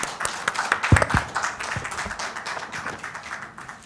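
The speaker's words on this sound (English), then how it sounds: "Please give her a huge round of applause, everyone." Scattered, uneven clapping from an audience at a women leaders and EHS professionals conference in Mumbai as a speaker comes on stage; the claps are moderately close and thin, with a few sharp individual claps standing out before they trail off.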